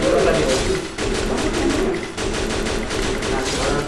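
Gunfire in a shooter video game: dense, rapid automatic bursts and overlapping shots fill the whole stretch, loud and continuous with only a brief dip midway.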